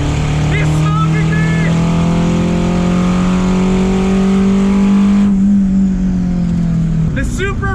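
Loud, close engine roar from a quad-turbo car drag racing a Toyota Supra, a sustained droning tone rising steadily in pitch under excited speech throughout.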